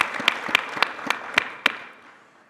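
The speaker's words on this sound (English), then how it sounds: "can we just give one more round of applause" Sparse, evenly spaced hand claps at a conference session, about six distinct claps in a steady rhythm that thin out and fade to quiet.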